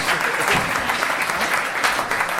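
A studio audience claps and cheers for two podcast guests, steady dense applause filling the whole stretch at close range.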